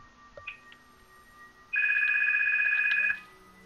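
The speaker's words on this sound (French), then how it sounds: "Attendez, coup de téléphone." An incoming call rings on a telephone, a single bright electronic ring burst lasting over a second, fairly clear above a quiet room hum.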